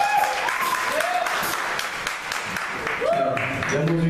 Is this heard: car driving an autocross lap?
no